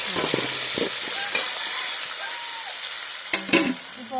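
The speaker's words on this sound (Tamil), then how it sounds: "இந்த பதத்துக்கு வணங்கின உடனே தக்காளி போடணும்" Tomatoes are stirred into golden fried onions in a hot pan, giving a steady sizzle with repeated scraping and clinking of the spoon against the pan, close and loud with no talking.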